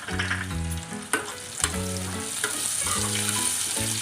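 Sliced onion fries in hot oil with ginger-chili paste for homemade roti noodles, a steady loud sizzle with stirring scrapes, no talk.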